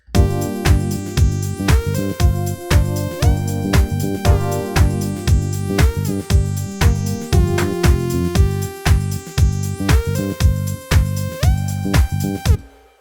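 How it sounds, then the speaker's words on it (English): A bright portamento synth lead from the V Station plugin plays a disco melodic line whose notes glide smoothly into one another, with a steady pulsing accompaniment underneath. "I love the sound of a Portamento lead line"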